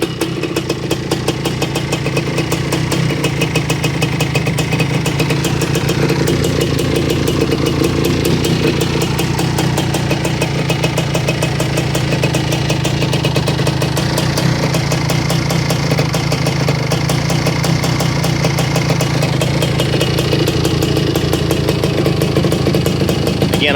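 A 1985 Honda ATC250R Mugen three-wheeler sits idling as it warms up, its engine running in a steady, loud, close-up putter with no pauses and no voices.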